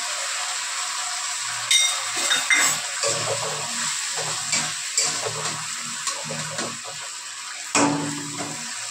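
Masala for an aar fish curry fries in a pan with a little added water. A steady, hissing sizzle is broken by scattered knocks and scrapes as it is stirred, with no talking.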